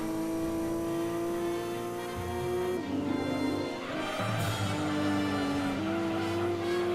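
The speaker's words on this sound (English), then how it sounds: "Then my car swerves again." An upgraded road car in Gran Turismo 2 swerves, its engine droning loudly with abrupt pitch drops and climbs as the revs shift, with brief tire noise in between.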